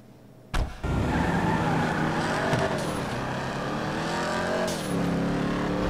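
In GTA 5, a fast car's tires squeal under a loud, steady engine roar. After a brief quieter moment, the sound kicks in at once and holds continuously, with the engine pitch rising and falling.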